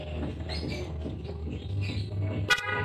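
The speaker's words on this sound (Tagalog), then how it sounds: "Tas busina." A Yamaha Aerox 155 scooter horn gives one short, sharp toot near the end, over a low steady idle hum.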